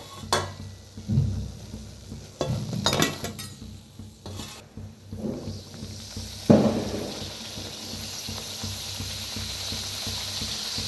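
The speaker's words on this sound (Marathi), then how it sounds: "दोन्ही साईडने छान असं तळून घेऊया" Karanji frying in hot oil: a steady crackling sizzle runs throughout, broken by several scraping stirs and clanks of a utensil against the pan, with no voices.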